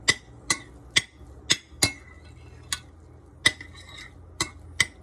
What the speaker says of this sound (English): And I'm just going to stir it up.